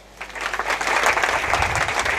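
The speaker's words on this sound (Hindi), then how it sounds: "बजाओ ताली।" Dense, steady applause from an audience at a PTA meeting in a hall, rising quickly and holding as a loud, even wash of clapping.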